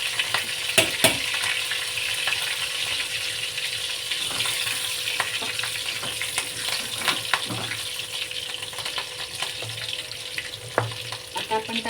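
Green chilies and cumin fry in oil for an okra dish, a loud, steady sizzle lasting throughout with occasional sharp pops and stirring clicks close by, no talking.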